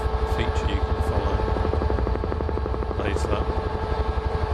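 Simulated UH-1H Huey helicopter in flight over New Zealand valleys in Microsoft Flight Simulator, its steady rapid blade thump and turbine whine loud and continuous throughout, with someone talking over it.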